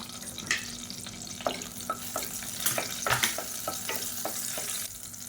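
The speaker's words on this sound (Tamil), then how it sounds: "அப்புறம் 5 பச்சை மிளகாயை 2ஆக கீறிட்டு சேர்த்துக்கலாம்." Slit green chilies frying in hot oil inside a pressure cooker, a moderate crackling sizzle broken by sharp spattering pops and stirring taps, fairly quiet and close.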